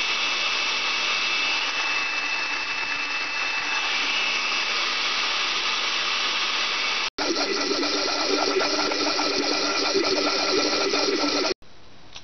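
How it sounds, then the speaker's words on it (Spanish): An electric blender runs steadily, blending egg with pepper and salt as oil is added to make mayonnaise; the loud motor whir cuts out briefly twice near the end, with no talking. "cuando empiece a licuar iré añadiendo el aceite"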